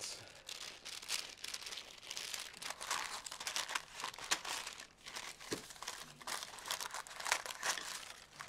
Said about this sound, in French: je vais utiliser une deuxième feuille de papier cuisson pour étaler ma pâte